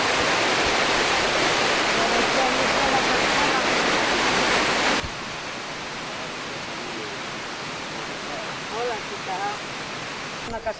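The Polla river flowing past Reocín de los Molinos, whose current once drove the millstones, makes a loud, even rush of water that drops abruptly to a softer, more distant burble halfway through, with faint chirps near the end.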